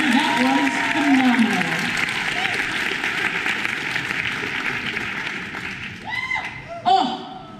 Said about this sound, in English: So extra, extra round of applause for Jamix for being able to do that anyway.